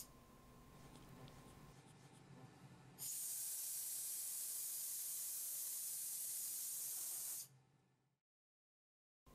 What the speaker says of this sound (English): we can remove any excess with the air nozzle